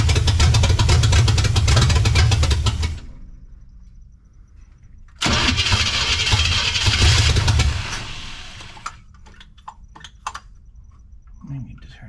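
A 1972 Chevrolet C10 pickup with a small-block 350 V8, long dormant, cranks and fires into a loud rough idle that dies, then restarts and runs again before cutting out, leaving quiet gaps with faint clicks.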